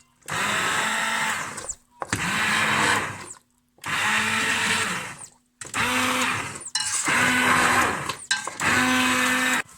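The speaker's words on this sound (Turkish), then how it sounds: "şu anda blenderla çorba haline getiriyoruz" A hand blender purees cooked vegetable soup in repeated loud bursts of motor whir, about six pulses with short pauses between them, no talking over it.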